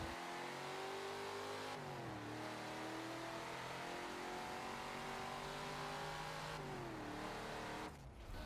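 Super B car in Forza Motorsport 7 drifting, its engine revving in a sustained tonal whine that dips and climbs as it shifts, loud and continuous.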